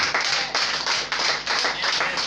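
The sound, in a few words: congregation applauding in church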